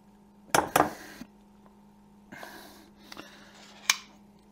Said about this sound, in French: Dans une casserole, je vais insérer le miel, la sauce soya, l'huile de sésame, le gingembre ainsi que l'ail fraîchement haché.